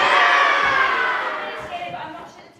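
A theatre audience of children at a music theatre day at Clonter cheers and whoops together, loud at first and then fading over a couple of seconds.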